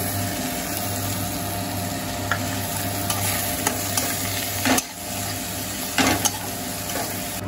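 A vegetable chop filling with chilli powder is stirred in a frying pan, a steady close sizzle with a low hum beneath and a few louder scraping strokes of the spoon, no voices.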